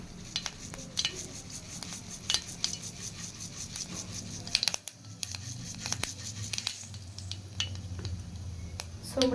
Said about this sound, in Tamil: இப்போது சோம்பு சேர்த்துக்கலாம்